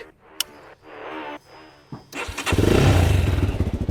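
A GPX Demon 250R motorcycle starter cranks in short bursts, then the engine fires and settles into a loud, throbbing idle with a deep muffler pulse, close by.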